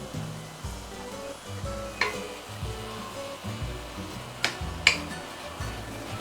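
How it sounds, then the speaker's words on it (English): Fish curry ingredients stirred and frying in a pan for Muar-style assam fish, giving a steady low sizzle with soft scraping strokes and a few sharp utensil clicks near the middle and end. "You need to non-stop keep on stirring."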